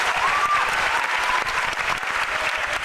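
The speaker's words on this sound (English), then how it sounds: "How about a round of applause for all of our Klingons?" A crowd at Universal Studios claps steadily throughout for performers in Klingon costume, dense applause with a few whoops mixed in.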